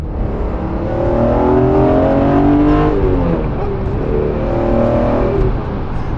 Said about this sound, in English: So I've driven the stock S54 and it's, yeah, this engine is quite different.